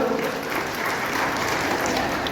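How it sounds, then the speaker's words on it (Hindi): An audience claps steadily throughout at a BJP felicitation event honoring senior party workers, a dense, even applause heard close with no voices over it. "अच्छी सोच के लिए कम से कम ताली न बजाओ।"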